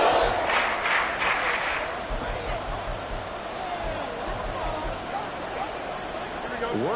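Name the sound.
stadium crowd cheering in Madden NFL 24 video game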